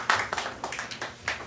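At a disability welfare policy forum in Bucheon, a handful of separate hand claps ring out briefly, sparse and moderately loud, in a small room.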